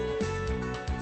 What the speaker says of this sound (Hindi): ये है सीटी